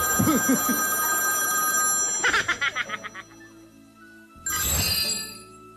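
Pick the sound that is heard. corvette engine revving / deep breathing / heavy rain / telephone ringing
telephone ringing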